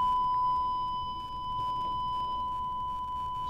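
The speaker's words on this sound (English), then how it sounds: "I'm able to demonstrate that again with the sine wave." A faint, steady sine wave tone from an Arduino pedal shield hums continuously with thin higher overtones over a low background rumble.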